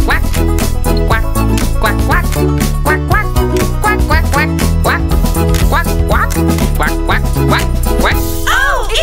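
In a kids' animal sounds song, a cartoonish duck voice quacks over and over in a steady rhythm, loud and up front over a bouncy musical backing.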